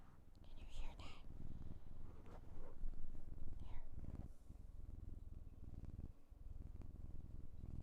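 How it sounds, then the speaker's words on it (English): A cat purrs close up in a continuous low rumble, with soft whispery breathy sounds and some brief higher noises near the start. "Little purr ASMR."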